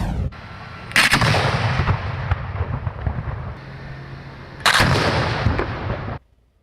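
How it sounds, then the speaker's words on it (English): Illegal fireworks detonated during a U.S. Consumer Product Safety Commission safety test: two loud, sharp blasts roughly four seconds apart, each trailing into a sustained crackling roar, with no voices and an abrupt cutoff at the end. "It shows just how destructive illegal fireworks can be."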